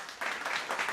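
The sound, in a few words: hand clapping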